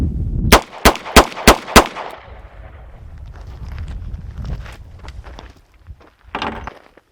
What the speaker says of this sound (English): I'm going to shoot from the same distance,